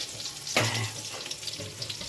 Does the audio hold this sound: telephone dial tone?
no